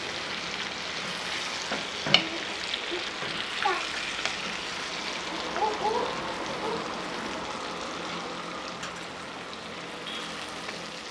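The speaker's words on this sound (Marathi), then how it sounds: "मसाला आणि हे सगळं जरा आपण हलवून घेऊया" Brinjal masala fries in a pan over a wood-fired stove, giving a steady crackling sizzle with soft stirring scrapes and a few sharper clicks, heard close with no talking.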